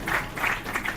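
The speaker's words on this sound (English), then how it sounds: "Please, a round of applause for them." An audience at a book and arts festival clapping in a short, muffled burst of applause that sounds close and at moderate level.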